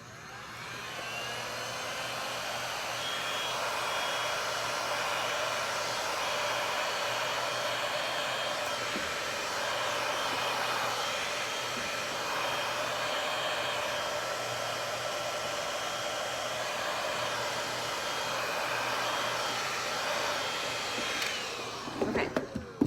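A heat tool on a low setting blows steadily over a Prima transfer laid on a glazed and waxed 3D stencil. The whooshing air hum runs loud and unbroken for the whole stretch and ends in a few brief clicks.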